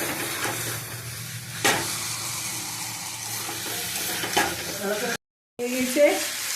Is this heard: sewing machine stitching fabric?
no